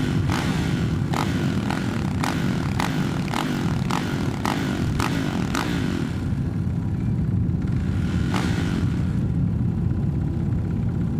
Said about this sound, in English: Couple of cracks of the throttle just to clear it out, make sure she's all running nice